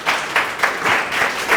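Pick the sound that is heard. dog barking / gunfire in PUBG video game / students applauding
students applauding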